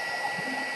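A heat embossing gun blows a brief, steady rush of hot air up close at a crafting table.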